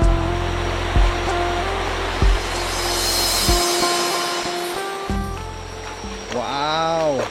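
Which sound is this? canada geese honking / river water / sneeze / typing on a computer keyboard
river water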